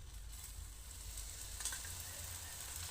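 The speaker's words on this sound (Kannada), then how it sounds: "ಈಗ ಅದಕ್ಕೆ ಸುತ್ತೂ ಕಡೆ ಎಣ್ಣೆ ಹಾಕ್ಕೋಬೇಕ್ರಿ." Oil spooned around a North Karnataka thalipeeth flatbread on a hot pan sizzles in a faint, even hiss with a few small crackles, steady for the whole stretch and with no talking.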